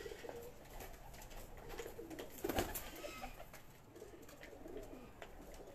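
Pigeons on a rooftop loft in Mansoorabad give faint, soft coos, low and rounded, set against quiet ambient hiss with one brief louder rustle midway.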